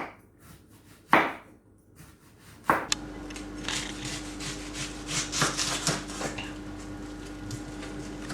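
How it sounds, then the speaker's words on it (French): Knife cutting onions on a board in a home kitchen, a few sharp knocks at first, then a run of quick irregular slicing taps over a low steady hum. "je vais laver les oignons. Bon, maintenant, je vais les couper."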